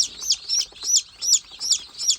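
Gavran (native desi) chicks peep in a steady run of bright, high chirps, about two per second, close by and alone.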